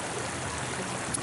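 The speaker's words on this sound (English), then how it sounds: "this little creek here" A small creek flows outdoors with a steady, broad rushing and burbling of water, close by and continuous, with no voices.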